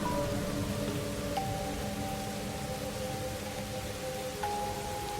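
Steady rainfall in the video game Master Detective Archives: Rain Code makes a constant soft hiss over a faint low hum, with no break throughout.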